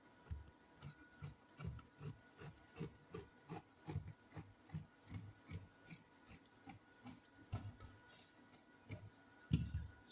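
Scissors cutting away excess dress fabric, a regular series of soft rasping snips and rubbing strokes, faint and close, with no talk.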